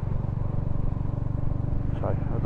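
A Royal Enfield Hunter 350 motorcycle being ridden makes a low, steady engine thrum at modest revs, with someone talking over it the whole time.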